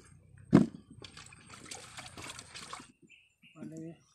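Sweet potatoes are washed with water, giving a soft splash followed by faint trickling and sloshing, with people talking over and between the water sounds.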